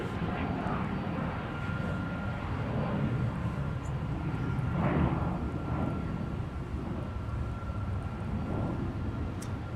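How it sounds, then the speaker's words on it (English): A Delta A330 airliner taxis at Minneapolis–Saint Paul airport at night, its jet engines a steady, distant rumbling whine with a faint tonal hum that swells and eases slightly, under quiet background chatter. "We got a Delta 330 taxiing up from Tech Ops."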